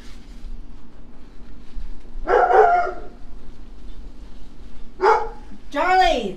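A dog barks outdoors on a windy day, a few separate loud barks and a rising yelp close by, over a steady low wind rumble.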